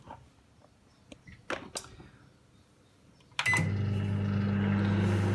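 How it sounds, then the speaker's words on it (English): A microwave oven set to full power cooking a cake: a few clicks and beeps from the control panel, then a door thump before a steady loud hum starts and keeps running. "And now we'll microwave the cake."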